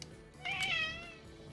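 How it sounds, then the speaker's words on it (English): A domestic cat gives one soft, rising meow, fairly quiet and alone, with no talk over it. "That's my cat."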